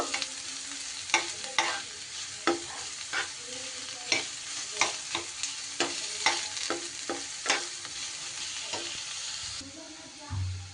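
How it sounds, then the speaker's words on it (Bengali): Chopped onion fries in hot oil with a steady sizzle while a spoon or spatula stirs it, giving repeated scraping knocks against the pan at an irregular rhythm, close and alone. "পেঁয়াজটাকে একটু সময় আমি তেলে নাড়াচাড়া করে নেব"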